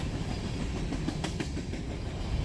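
Empty BNSF freight train of grain cars rolling past, a steady loud rumble of wheels and rail noise with faint clickety-clack joints throughout.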